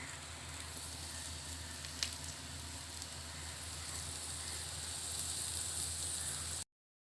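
Ivy gourd (kundru) fries in a pan with a steady, close sizzle and crackling hiss, one small pop near the start, continuing evenly until it cuts off abruptly.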